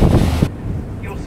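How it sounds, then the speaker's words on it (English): Strong wind buffets the microphone on a river cruise boat in Strahan, Tasmania, heading out toward the open ocean, a loud continuous roar that eases into steady gusting. "Very windy."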